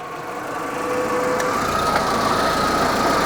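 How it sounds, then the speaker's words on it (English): A Volkswagen's AC compressor clutch engages and the electric cooling fan spins up, giving a steady whirring engine-bay drone that grows louder after about a second and then holds even. "there you can see the clutch is engaged and the cooling fan is turning"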